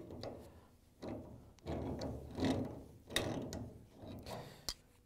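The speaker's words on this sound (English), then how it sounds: "We're going to use the pliers to loosen up the fill hose." Pliers grip and turn the hot-water fill hose fitting on a Whirlpool, KitchenAid or Maytag washing machine inlet valve, giving a few scattered metallic clicks, ratchety scrapes and knocks spread across a few seconds, close by and fairly quiet.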